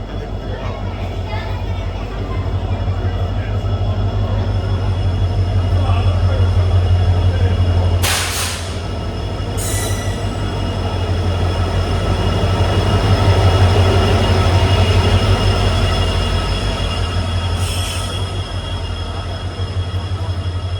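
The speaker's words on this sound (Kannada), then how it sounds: "ಟ್ರೈನ್ ಬಂತು." A train pulling into a railway station, a loud continuous low rumble and rolling clatter throughout, broken by a few sharp high squeals or hisses.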